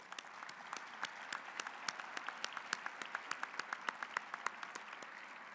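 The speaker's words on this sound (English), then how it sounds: "let us give a round of applause to those who served us, and Pat Harris" At a celebration honoring those who have served the troops, an audience applauds steadily, a continuous wash of many hands with distinct individual claps standing out, heard from a moderate distance.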